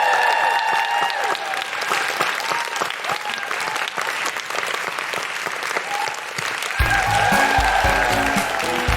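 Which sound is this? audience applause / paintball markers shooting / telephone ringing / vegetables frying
audience applause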